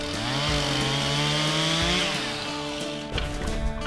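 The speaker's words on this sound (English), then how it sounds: "This particular tree is a bit too small to make into lumber, so we're just going to cut it up into firewood." A chainsaw cuts a felled tree, too small for lumber, into firewood on raw land being cleared for a homestead. The loud revving whine rises and falls through the cut and then drops toward idle near the end, with no talking.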